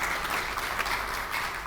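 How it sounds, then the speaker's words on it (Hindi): Audience at an event applauding loudly for Modi, dense sustained clapping from a large crowd. "ऐसे मोदी जी के लिए जरा जोरदार तालियां एक बार बजनी चाहिए"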